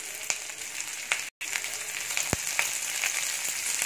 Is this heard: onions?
yes